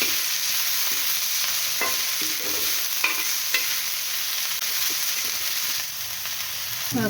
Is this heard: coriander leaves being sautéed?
yes